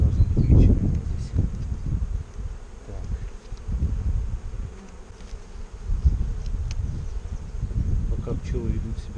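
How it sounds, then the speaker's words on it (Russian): Honey bees hum and buzz around an opened hive frame at an apiary, a dense, close, continuous drone with soft handling rustles beneath it. "пчелы ведут себя не агрессивно"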